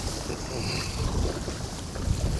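Wind buffets a fishing boat on the water, a continuous close rumbling roar of gusts against the microphone with a faint wash of waves, no talk.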